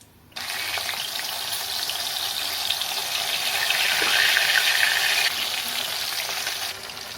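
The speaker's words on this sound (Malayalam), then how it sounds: "നമുക്ക് ഈ മീൻ 2 സൈഡും ഫ്രൈ ആവുന്ന വരെ വെയിറ്റ് ചെയ്യാം" Motha fish pieces fry in hot oil with curry leaves, giving a loud, steady sizzle that starts abruptly and swells slightly before easing, with no talk over it.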